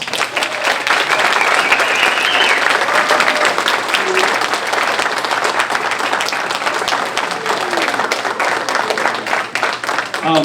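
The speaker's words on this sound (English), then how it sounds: "How about a round of applause?" Loud, sustained applause from a large crowd at a high school Senior Hall of Fame induction ceremony, steady clapping that fills the whole stretch without letting up.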